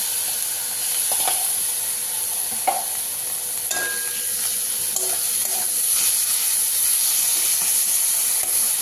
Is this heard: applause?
no